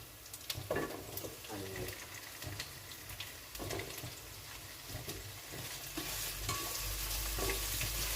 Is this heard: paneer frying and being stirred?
yes